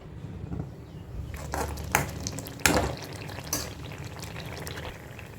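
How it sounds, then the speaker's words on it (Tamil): A masala mixture for beef pickle simmers in a pan with a low, steady bubbling hiss and a few louder clattering bursts of stirring, heard alone without speech. "இப்போ இது நல்லா கொதித்து வரட்டும்"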